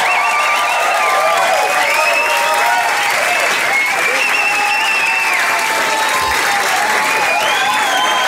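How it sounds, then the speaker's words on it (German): Steady, loud applause from a live audience follows an acoustic song at a Lagerfeuer Deluxe performance, dense clapping mixed with cheers and a few whistling voices running unbroken throughout. "Applaus für ihn."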